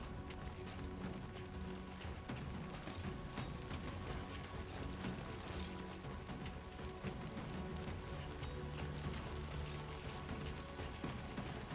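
Rain falls in Death Stranding 2 as a steady, dense hiss of drops hitting the ground, continuous and moderately loud throughout, with a low rumbling layer underneath.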